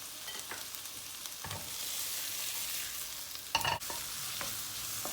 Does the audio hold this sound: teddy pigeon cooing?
no